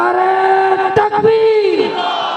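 A large rally crowd in Karachi roars a chant in response to the Nara-e-Takbir slogan, many voices in loud unison, sustained and swelling before fading.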